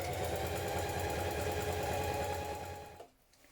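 A sewing machine runs steadily at close range, stitching a trouser seam with a long, large stitch. Its even, rapid whirring rhythm slows and stops near the end.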